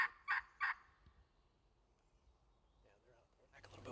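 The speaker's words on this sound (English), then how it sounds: "strike up some turkeys, sound like they're a pretty long ways away" Three short, distant wild turkey gobbles in quick succession from a field, then quiet outdoor air before a faint rustle at the end.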